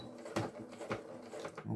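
A domestic sewing machine sews a topstitch on a fabric belt bag, stitching forward then in reverse, making faint, short whirring bursts close by.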